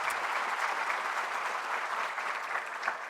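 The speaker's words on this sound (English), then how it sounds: "Let's give Dean Samuel a round of applause for that wonderful welcome." Audience at a 2025 medical school White Coat Ceremony gives a steady, even round of applause, a soft continuous patter heard from some distance without pause.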